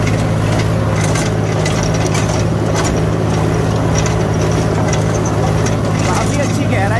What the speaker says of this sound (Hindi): काफ़ी अच्छी गहराई लेकर चल रहा है रोटावेटर, फुल लीवर डाउन है।